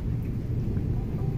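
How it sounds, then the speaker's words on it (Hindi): Steady light rain falling outdoors, with a low continuous rumble of distant thunder beneath the patter and no voices. "बारिश हो गई है धीरे।"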